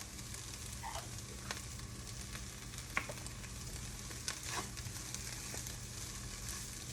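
Vegetables for veggie egg rolls sweating in a pan with a sprinkle of salt, a steady soft sizzle running throughout, dotted with occasional faint clicks and stirring taps, quiet and free of talk.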